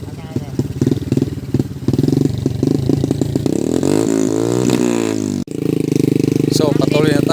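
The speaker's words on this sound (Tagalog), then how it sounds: "Dito na nagsimulang pumalyar yung motor natin." A motorcycle without brakes labours over a rough mining trail, its engine revving loudly and unevenly with choppy, stuttering bursts and a brief cut-out near the end before picking back up, heard up close.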